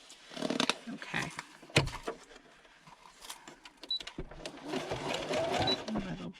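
A sewing machine stitches a traveller's notebook in short bursts and brief back-stitching, close by, with a person talking between and over the runs.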